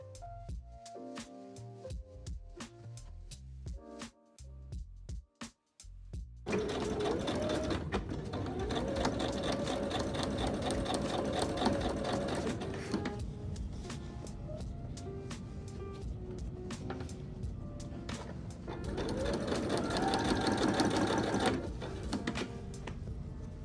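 After some quiet handling and clicks, a sewing machine runs in long bursts of fast rhythmic stitching while joining denim patchwork blocks into a column, with a couple of speed surges.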